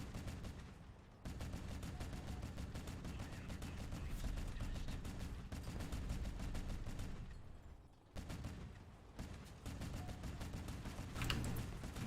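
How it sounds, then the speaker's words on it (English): Machine gun fire in a video game rattles in long, fast, continuous bursts with brief pauses between them. It sits at moderate distance with no voices over it. "Oh, it's just machine guns."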